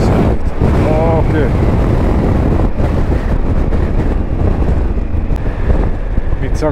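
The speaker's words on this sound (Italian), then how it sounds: "Vento laterale incredibile." Strong crosswind buffets a motorcycle on a bridge, heavy low roaring gusts and wind noise over the engine, with a rider's voice speaking briefly over it.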